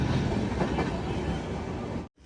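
A train passes through a railway station set among mountains, a loud, steady rumble with rolling wheel clatter that holds throughout and then cuts off abruptly near the end.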